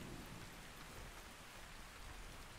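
Steady rain falls in Ark Ascended Scorched Earth as a dense, even hiss of drops, constant and fairly faint, with no voices over it.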